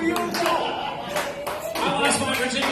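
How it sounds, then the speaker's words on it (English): An audience at a comedy club keeps up steady, dense clapping throughout, with a voice rising over the crowd noise partway through. "Now, keep those claps going as long as you can."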